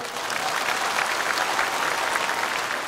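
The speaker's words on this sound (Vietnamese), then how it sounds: "bây giờ mới vỗ tay" An audience at a Buddhist sermon at Ngoc Quy monastery claps in sustained applause, a dense, even wash of many hands that holds steady throughout without talk.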